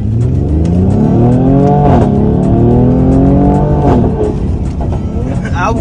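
A sports car engine revs hard, rising and falling in pitch several times, loud and close, with people talking over it.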